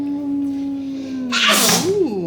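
A single loud, close human sneeze bursts out sharply near the end, following a steady low tonal hum, in a home kitchen.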